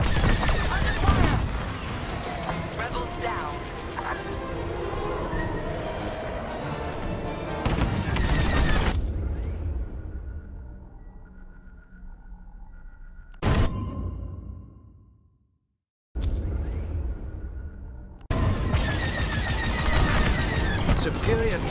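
Blaster fire and explosions in a Star Wars Squadrons space dogfight during a convoy attack, a dense, loud barrage of shots and crashes with a short sudden dropout before the battle noise returns, layered with radio voices talking over it.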